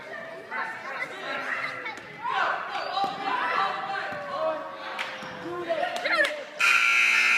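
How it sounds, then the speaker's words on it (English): A loud, steady electronic buzzer blares at the end of the third quarter of a basketball game, cutting through a crowd's chatter and the scattered thumps of bouncing balls. "Right before the buzzer sounds"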